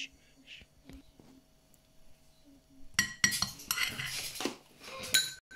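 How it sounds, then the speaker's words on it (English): Egg and vanilla extract are mixed into creamed butter and sugar for cookies, with a utensil clinking and scraping against a bowl. It starts quiet with a few light taps, then turns to busy, louder stirring and clattering. "So now you just want to combine the egg and vanilla extract with the butter and sugar."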